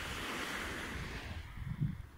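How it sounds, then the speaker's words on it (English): Ocean waves wash onto the beach at Coney Island as a continuous surf roar with some wind. The wash eases off and then swells again in a nearer rush at the end. "I was just sitting here watching the waves and doing nothing but watching the waves"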